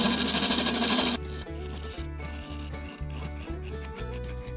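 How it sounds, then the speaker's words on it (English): A wood lathe spins as a straight turning tool widens a drilled hole in a small wooden vase, giving a steady loud scraping, rasping cut with a rhythmic pulsing beneath, close and alone. "Now I'm gonna drill the hole bigger with my straight tool here."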